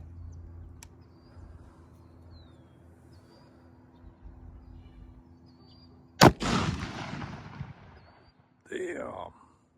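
One loud, sharp blast from a double-barrel black powder shotgun pistol, fired close by outdoors. It rings out after a quiet stretch, a voice talks afterward, and birds chirp faintly in the background.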